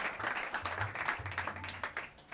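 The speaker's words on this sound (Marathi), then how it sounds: "जोरदार एकदा टाळ्या वाजवा" An audience at a music school's pakhawaj guru-puja inauguration claps steadily, a dense wash of applause that holds for a couple of seconds, with a low hum underneath.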